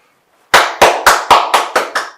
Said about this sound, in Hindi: ऐलान कर दिया है तालियां मार के।